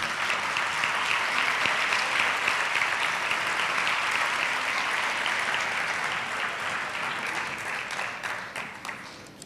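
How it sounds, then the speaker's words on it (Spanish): An audience at a Chiclana education awards ceremony applauds an adult-education award recipient as she comes to the stage, a dense, sustained round of clapping that eases off slightly toward the end. "Un aplauso para ella."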